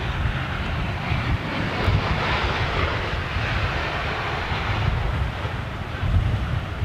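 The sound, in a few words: jet airliner with CFM56 engines passing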